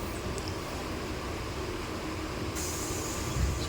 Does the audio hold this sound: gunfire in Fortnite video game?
no